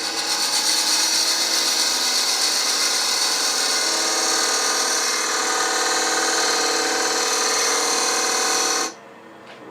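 Lathe turning a screw-together wooden keepsake box while a homemade recess tool ground from an Allen wrench cuts a recess, a loud steady whine and scraping hum that drops abruptly near the end.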